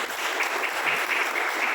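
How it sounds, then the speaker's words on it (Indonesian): An audience at a regency gathering of business owners in Bandung claps steadily, a dense, close wash of applause that runs unbroken for the whole stretch with no talk over it. "tepuk tangan ini ya semuanya"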